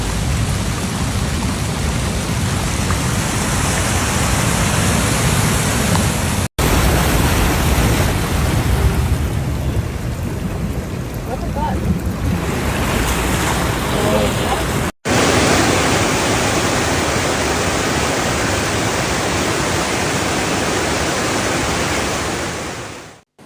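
Floodwater rushes through Texas Hill Country rivers and creeks during flash flooding, a loud, dense, continuous roar of churning water broken by two abrupt cuts, with no clear speech.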